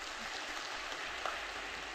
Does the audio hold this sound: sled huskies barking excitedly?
no